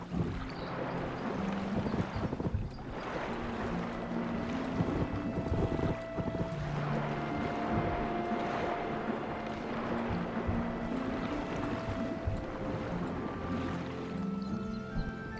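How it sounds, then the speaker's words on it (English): A ship sailing in the fantasy strategy game King's Bounty: The Legend, with a steady wash of wind and water rushing alongside faint tonal background music, continuous and unbroken. "Just gonna kind of sail around the perimeter first."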